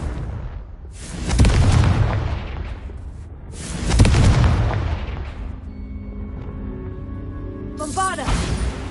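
Fire-blast spell explosions in Hogwarts Legacy: two loud, deep booming blasts about three seconds apart, each with a rumbling tail, then a sharper crack near the end over a faint humming tone.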